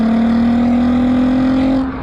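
Volkswagen Golf R32 with its six-cylinder engine, a steady loud droning hum held at near-constant revs, close and alone with no talk.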